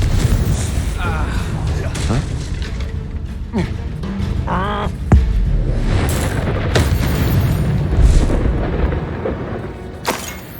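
Spell explosions in the Hogwarts Legacy video game, with repeated booming blasts and crackling impacts over a busy battle mix while voices speak throughout.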